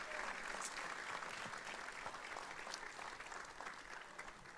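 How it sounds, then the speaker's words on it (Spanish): A church congregation applauds during a Sunday Mother's Day service, sustained dense clapping from many hands that fills the room at an even level throughout. "¿Por qué no damos un gran aplauso para mi mamá?"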